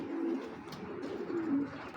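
Racing pigeons coo close by, two low rolling calls within a couple of seconds.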